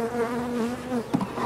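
Honey bees buzzing in a hive, a dense close drone with wavering pitch that continues throughout, with one brief louder bump near the end.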